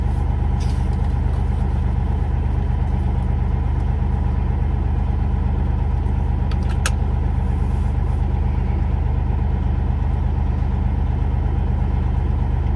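A truck idles at the World Unity Convoy in Winnipeg in February, a steady low engine rumble and hum that runs unbroken and close throughout, with no talk over it.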